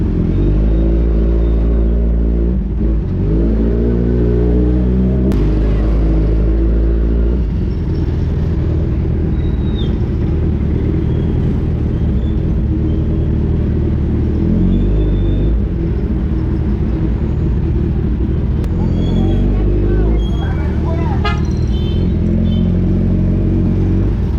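Road traffic in San Jose City rumbles steadily nearby, a heavy low drone of engines and passing vehicles with occasional revving and faint higher clatter, loud throughout and without speech.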